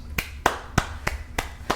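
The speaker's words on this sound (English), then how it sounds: "Why'd you clap after the stat line?" Six sharp, evenly spaced hand claps ring out close by and alone, with no talk.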